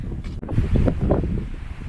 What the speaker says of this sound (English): Windy coming down the horn here.